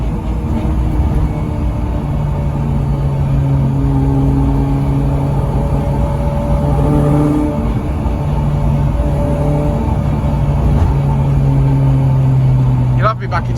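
Honda Civic Type R FN2 engine running a crackle map, a steady loud in-cabin drone with rising and falling pitch under continual talk, ending in a brief sharp burst near the end.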